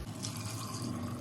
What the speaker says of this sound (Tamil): ஒரு கிளாஸ் தண்ணி விட்டுங்கோ.